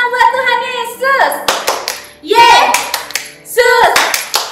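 Children at a Sunday school service clap their hands in a few lively bursts of sharp, close claps, mixed with singing and children's voices.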